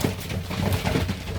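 Pigeons coo steadily in a loft, a dense, continuous murmur of overlapping low calls filling the space at close range with no talk.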